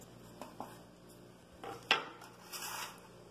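A baking tray greased with margarine or butter and dusted with flour is picked up and set down, giving a few faint metallic clinks and a brighter scrape, close and quiet.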